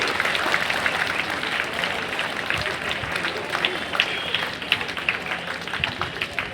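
A crowd claps loudly for schoolchildren receiving prizes at a 2025 cricket tournament prize distribution function; dense, continuous applause with scattered voices mixed in.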